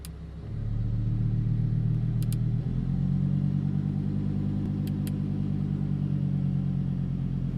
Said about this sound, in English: you'll notice that the idle and exhaust note changes pretty well.